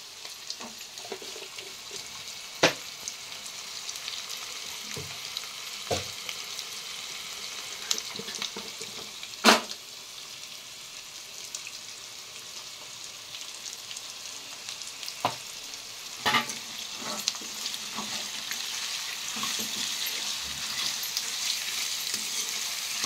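Potatoes fry in a pan with salt, a continuous close sizzle punctuated by occasional stirring scrapes and clinks throughout.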